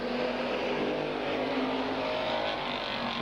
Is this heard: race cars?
yes